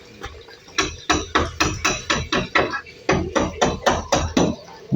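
Nails driven into wood with a hammer while building a kitchen house, a rapid run of sharp, loud close strikes in an even rhythm with one brief pause midway.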